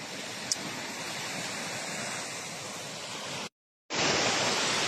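Waves break on a beach in Mindoro after a storm has turned the sea brown, a loud steady surf roar with no talk, cut by a brief dropout near the end.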